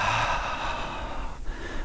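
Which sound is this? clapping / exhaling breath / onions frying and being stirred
exhaling breath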